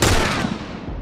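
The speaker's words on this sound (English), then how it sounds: "that guy's about to take a rifle shot to the face" A single loud rifle shot in The Last of Us video game, a close booming blast that decays over about a second.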